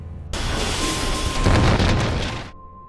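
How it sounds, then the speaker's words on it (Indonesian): A huge roaring explosion of a mothership in a Jason movie bursts in, rumbles loudly for about two seconds, then cuts off abruptly. "Tepat di saat kapal itu meledak"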